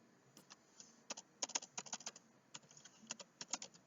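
Rapid, uneven keystrokes on a computer keyboard, close and fairly quiet, clattering alone as book details are entered into a desktop application.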